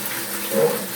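Tap water runs steadily into a sink or basin during hand-rinsing while doing laundry, a soft continuous wash that swells briefly mid-clip, fairly close and moderate in level.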